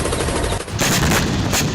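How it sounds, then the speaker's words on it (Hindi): Machine gun fire from a Russian helicopter at sea drones, a loud, dense continuous burst of rapid shots with a brief dip midway. "रूस की वायुसेना ने हेलीकॉप्टर से गोलीबारी करके कई ड्रोन नाकाम कर दिए।"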